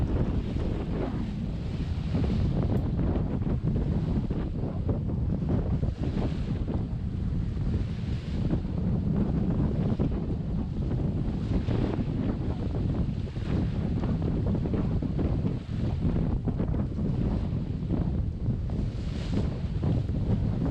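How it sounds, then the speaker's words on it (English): Strong 25-knot wind buffeting a Contessa 26 sailboat beating to windward under a reefed jib in the Northumberland Strait, a loud continuous roar of gusts hitting the microphone with waves and water rushing beneath. "Wave Rover is beating to windward as she battles 25-knot winds."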